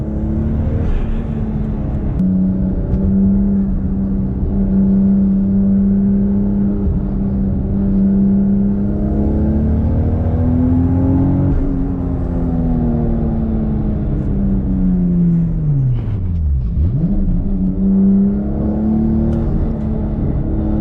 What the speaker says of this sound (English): now I'm gonna show you what it's like to drive the Toyota Supra from a first-person point of view